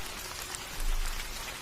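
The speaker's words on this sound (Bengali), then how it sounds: "আজ অসময়ে বৃষ্টি নামলো। সময় যত বাড়ছে বৃষ্টিও দেখছি ততই বাড়ছে।" Steady rain pattering down, a dense hiss of drops with a brief swell partway through; no voices.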